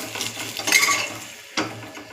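Eggs fry lightly in oil with salt for a dhaba-style egg masala curry, a soft sizzle under scraping and clinking of a utensil against the pan, brief and close.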